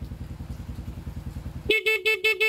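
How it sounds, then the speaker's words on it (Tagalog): A motorcycle engine idles with a rhythmic putter, then the horn sounds in several quick, loud beeps close by. "Testing. Busina."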